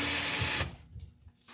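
A power screwdriver with a Phillips bit backs out a screw underneath a washing machine during a door seal replacement, giving a loud whirring burst of about half a second, then dropping to quiet handling noise.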